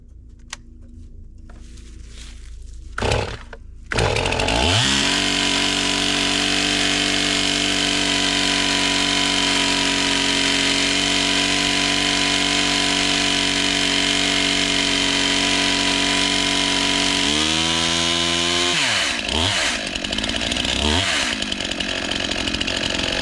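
A STIHL chainsaw fitted with a new bar and chain runs at half choke, starting after a few sharp pulls and holding a loud, steady, buzzing drone close by, then briefly dipping and revving near the end.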